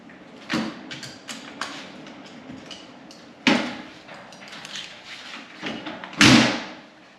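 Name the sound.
1964 Ford F100 truck door closing and latching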